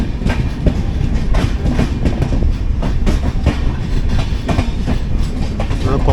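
Inside the 16217 Mysuru-Shirdi Express passenger train running on rails in India, a loud steady rumble with rhythmic clickety-clack of wheels over rail joints, continuous and close, no talking.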